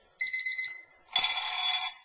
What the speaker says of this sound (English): various alarm tones.